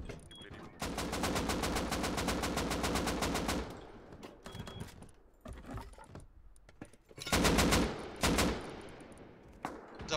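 Gunfire in the survival game Rust, with a long rapid automatic burst, then quieter scattered noises and a second loud burst followed by a few single shots, and a voice briefly speaking in between.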